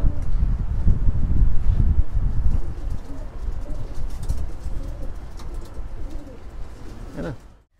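Pigeons kept in a home loft coo steadily in soft, low, rolling calls close by, with light wind noise buffeting the microphone throughout.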